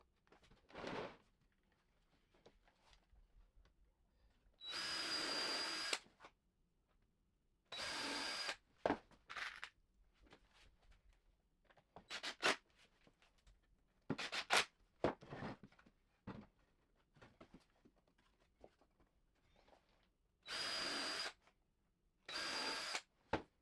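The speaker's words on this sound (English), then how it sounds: "Screw it from the side with, again, outdoor screws." Power drill driving outdoor screws into a 2x4 table, several distinct bursts of whirring each lasting about a second, with quieter handling clatter and knocks in between.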